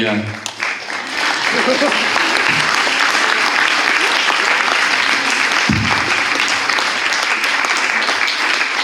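An audience at a mentalism show bursts into loud, sustained applause, dense clapping that swells quickly and holds steady throughout, with some voices mixed in.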